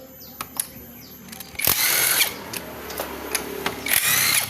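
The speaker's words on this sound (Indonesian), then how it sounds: "Ini kita buka pakai kunci T8 teman-teman ya." A T8 key wrench works on the body panel of a Honda Scoopy FI scooter, giving a few sharp clicks and then a sustained harsh whirring burst, repeated in bursts, close and fairly loud with no talking.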